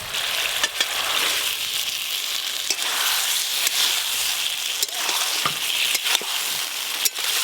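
Fried potatoes and tomatoes sizzle loudly in a mustard-chili masala, a dense, continuous crackle with occasional sharp pops and clicks, close and unbroken.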